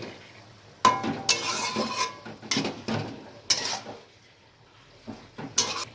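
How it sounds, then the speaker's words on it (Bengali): A ladle stirs potatoes and cabbage in a metal cooking pot, with a series of sharp, irregular clanks and scrapes against the pot, close and fairly loud, with quieter stirring between the knocks and no talking. "ভালো করে একটু নাড়াচাড়া করে নিচ্ছি, সবটা ভালো করে খুব মিশিয়ে নিচ্ছি লবণটা দেওয়ার পর"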